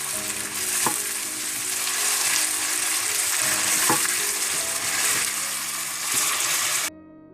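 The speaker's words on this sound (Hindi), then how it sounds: "इन प्याजों को आप ब्राउन कर लें।" Onions frying in oil until brown for achari chicken, a continuous loud sizzle with occasional clinks of a spoon against the pan, ending abruptly, and no one speaking.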